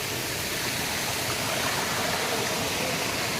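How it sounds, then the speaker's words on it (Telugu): Waterfall at Erakampalem, a steady loud roar of falling water that fills the whole clip, broad and continuous with no voices. "చూస్తున్నారు కదా ఈ వాటర్ ఫాల్ దగ్గర పైనుంచి ఏ విధంగా ఉందో"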